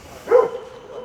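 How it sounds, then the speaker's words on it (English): A single short dog bark sounds at moderate distance over low background noise in Porthleven, Cornwall. "if you can hear me over the noisy dogs"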